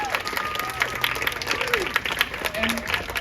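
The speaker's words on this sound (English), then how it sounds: "Can everyone here just give yourselves a huge round of applause?" A crowd at an outdoor mural dedication and ribbon cutting bursts into loud, dense applause with cheers and whoops mixed in, while voices call out over the clapping throughout.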